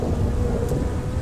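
Thunder rumbles during a lightning storm in the video game Grand Theft Auto V. It is a steady, loud roar heavy in the low end and continues for the whole short moment, with no voices.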